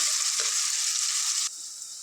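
Small fish frying in plenty of oil produce a loud, bright, crackling sizzle that holds steady, then drops abruptly to a quieter level partway through.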